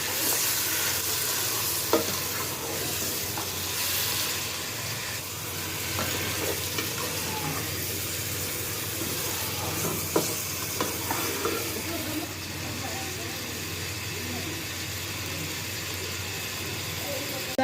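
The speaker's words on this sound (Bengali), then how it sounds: "এবার ভালো করে নেড়েচেড়ে মাংসটা কষিয়ে নেব।" Chunks of beef for beef bhuna khichuri stirred and fried in a pot, a steady close sizzle with scraping and clinking of the spoon throughout, while a voice talks now and then under the frying.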